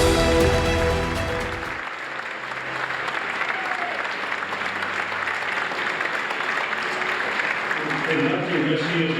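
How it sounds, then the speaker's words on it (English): Dinner audience at the St. Louis Sports Hall of Fame enshrinement applauding an inductee, a dense, steady roar of clapping from a large crowd filling the room for several seconds, with a voice heard briefly at the start and end. "Tonight, please welcome into our St. Louis Sports Hall of Fame, with your applause"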